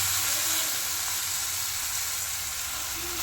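Fresh fenugreek leaves go into garlic frying in oil, producing a continuous, close, hissing sizzle that stays level from start to finish with no voices.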